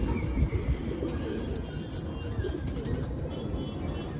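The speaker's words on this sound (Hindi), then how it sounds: "सब नए कबूतर हैं" Pigeons, a flock of new birds including Hyderabadi breed, coo in a loft net, their soft calls blending into a steady, dense wash of background noise that runs throughout.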